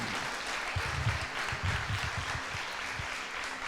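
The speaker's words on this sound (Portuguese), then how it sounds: "Vamos dar um forte aplauso a Cristo Jesus nessa noite" A church congregation at an evening worship service applauds, a soft, even wash of many hands clapping, heard faintly and from a distance, with no voices standing out.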